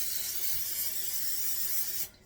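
Non-stick spray hisses onto a silicone donut pan in one continuous burst of about two seconds, close up, then cuts off sharply.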